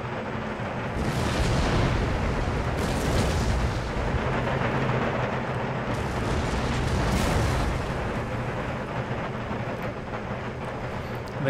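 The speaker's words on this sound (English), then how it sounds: "So I presume all my artillery is going to go straight for these horse artillery batteries." Deep, rumbling booms of artillery in the video game Empire: Total War roll on continuously, with heavy blasts layered over a low, sustained background roar.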